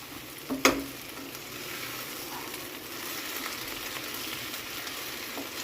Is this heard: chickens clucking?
no